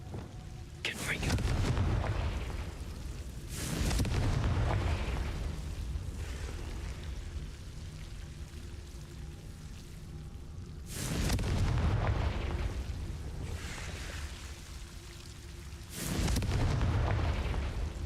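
Repeated fire-blast spell explosions from the Confringo charm in Hogwarts Legacy, four loud booming bursts spaced a few seconds apart, each followed by a rumbling decay.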